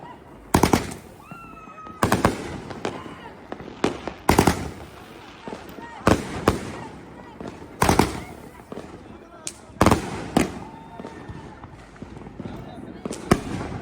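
Fireworks going off outdoors during a 2024 celebration, a series of sharp loud bangs and cracking bursts spaced every second or two, with people talking and shouting between them.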